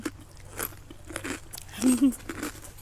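Crispy pork rinds bitten and crunched at close range during a spicy seafood meal, with a few sharp crackling crunches clustered near the end amid soft mouth sounds and low murmurs.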